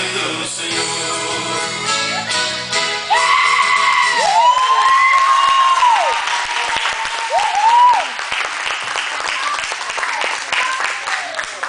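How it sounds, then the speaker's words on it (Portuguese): A crowd applauds the soldiers at a Christian musical performance, with clapping, cheers and whoops. Voices and sung or shouted tones rise over the applause, which continues loud and steady throughout. "Palmas para os soldados"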